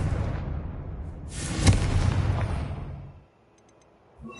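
A Confringo blasting spell explodes in Hogwarts Legacy, a loud booming burst that rolls and rumbles for a couple of seconds before fading into quiet, followed by a faint closing thud.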